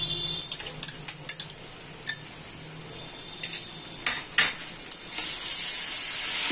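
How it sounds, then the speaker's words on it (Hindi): Garlic ginger paste sizzles in a pan while being stir-fried for a chana dal chicken dish, with clinks and scrapes of a spoon against the pan, and the hiss swells toward the end. "इसमें डालेंगे ये लहसुन अदरक का पेस्ट"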